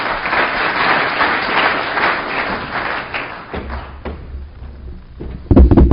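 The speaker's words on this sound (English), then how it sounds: "Come up, Tracy, and let's hear it for Tracy, LiveRez." Audience applause at the Capital Connect 2016 business event as a CEO is called up to speak, steady clapping from a crowd that thins out, followed by a few louder close thumps.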